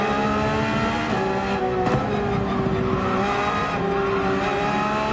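A Porsche 911 GT3 in Gran Turismo 7 at Mount Panorama, engine droning steadily at high revs with rising and falling pitch as it accelerates and shifts, loud and continuous with no talking.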